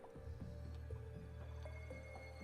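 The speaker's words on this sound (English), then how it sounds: "it's going to be a little bit slow dripping through" Water dripping slowly in the Oxygen Not Included video game: soft, repeated drip and squish sounds at an uneven pace over a steady low game hum.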